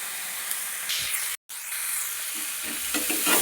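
Coconut and onion fry in a pan for a home-style chicken curry, a steady close sizzle with a brief break and soft stirring scrapes near the end.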